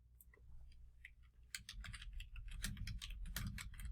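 Someone types on a computer keyboard with quiet, close, irregular key clicks that grow busier after a slow start.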